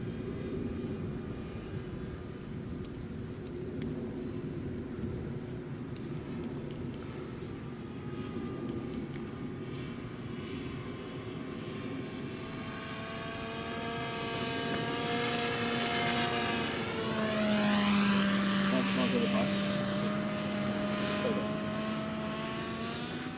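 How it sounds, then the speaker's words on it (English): A remote-controlled aircraft makes flyby passes in the open air, its engine drone steady at a distance, then growing louder and rising in pitch as it sweeps close by around the middle of the run before easing away. "So he's going to be doing a couple passes in the next couple seconds to give you guys a flyby view."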